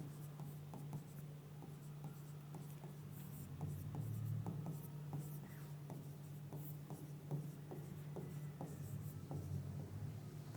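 Chalk or marker strokes on a classroom board during an organic chemistry lesson, a quiet, steady run of short scratching taps in a regular rhythm under a constant low hum, no talking.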